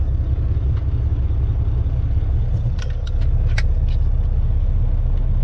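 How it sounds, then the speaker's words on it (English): A pickup truck drives steadily on a road, its engine a loud, continuous low rumble throughout, with a few faint brief clicks or squeaks standing out midway. "Okay, I just went and got the truck."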